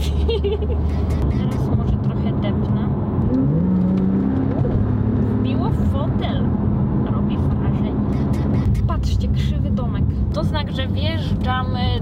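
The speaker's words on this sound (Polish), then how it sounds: "Auto jedzie, samo zmienia biegi." A car with an automatic gearbox drives through Batumi, Georgia, giving a steady engine drone and road rumble throughout, with voices talking over it.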